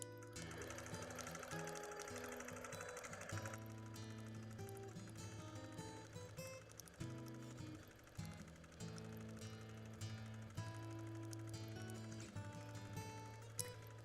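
A quilting machine set to a speed of 740 runs steadily in manual mode, stitching meandering lines across a red and white quilt, with a continuous mechanical hum and faint background music throughout.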